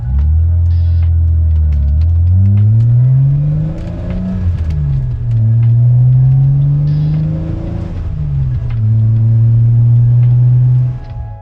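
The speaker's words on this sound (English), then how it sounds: "The exhaust is buttery, harmonic, smooth." A BMW E30 with a newly installed exhaust rises and falls through the revs in several smooth pulls, a loud, close, deep droning note that climbs in pitch, eases off and climbs again.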